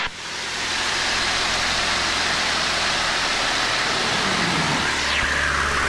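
A de Havilland Chipmunk aircraft engine runs steadily during aerobatics, a loud continuous roar with wind rush, heard from inside the cockpit, and the pitch shifts slightly toward the end.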